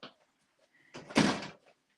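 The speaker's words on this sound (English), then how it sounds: "you gonna shut the door so Brooke can't get in?" A door being shut indoors at a home: a faint creak and shuffle, then one solid thump with a rattle that fades, close and fairly clear, with no talking.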